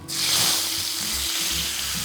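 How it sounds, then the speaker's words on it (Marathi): Mustard seeds, asafoetida, turmeric and curry leaves crackle in hot oil for a dal tempering, a loud, dense and steady sizzle up close with faint pan knocks underneath and no voices. "छान आवाज येतोय तडतडल्याचा, हिंग"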